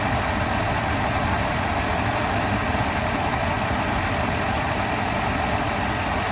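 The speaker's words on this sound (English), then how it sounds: "So I want to show the AC compressor operation. It is cycling, as you can see it." A 1996 Mercedes S420 idles with its AC compressor cycling. A close, steady mid-pitched engine rumble holds throughout, with no clear pause or change.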